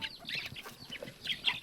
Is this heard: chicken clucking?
yes